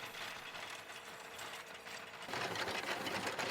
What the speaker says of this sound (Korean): 땅을 갈아엎는 트랙터에서 둔탁하게 돌 갈리는 소리가 들립니다.